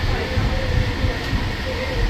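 The JFK Airport AirTrain rumbles steadily along with a low, continuous rolling drone and faint background hiss, heard from inside the moving car.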